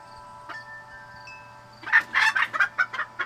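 Backyard hens cluck and squawk in a quick burst of loud, close calls after a quiet lead-in with a faint steady hum.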